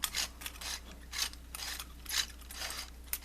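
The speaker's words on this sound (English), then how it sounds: "open this lever and unscrew the bottom half" Metal Graflex-style lightsaber hilt, its bottom half unscrewed after a lever is opened, gives a series of dry, ratcheting metallic clicks and scrapes in irregular bursts, close up and fairly quiet.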